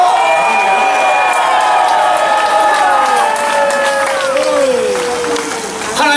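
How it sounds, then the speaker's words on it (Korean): Crowd at an outdoor Korean political rally outside a police station, applauding and cheering in a sustained dense wash of clapping and voices with some whistle-like tones. "역전의 하나님께 영광의 박수 부탁드리겠습니다."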